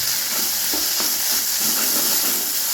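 Masala and onions frying in a pan with cumin powder for egg bhurji, a steady bright sizzle and hiss with faint stirring scrapes, continuous and close.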